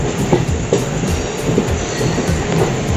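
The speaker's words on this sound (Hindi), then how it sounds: "तर आमची आतां ट्रेन येयल्ली आसा हांगासर।" Train pulling in at Madgaon railway station in Goa, a steady loud rumble of rolling wagons with rhythmic wheel clacks and faint squeals, continuous throughout with no talking.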